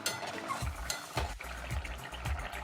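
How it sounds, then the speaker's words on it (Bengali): Curry gravy for a chhana and pea-fritter dish bubbling in a pan, with soft, uneven simmering pops and a few low stirring thumps close by, no voices. "ঝোল ভালো মতন ফুটে গেছে।"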